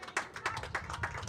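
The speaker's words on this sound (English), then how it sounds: "as the crowd gives him a little bit of an ovation here" Baseball crowd at a Lafayette vs Lehigh college game applauding a departing pitcher, light scattered clapping with a few sharper claps standing out, moderately distant and sustained through the clip.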